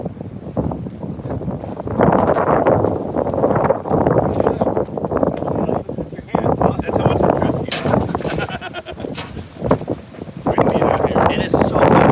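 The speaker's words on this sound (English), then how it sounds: "It's cold and windy." Strong outdoor wind buffets the microphone in heavy, irregular gusts, with people talking underneath the rumbling noise.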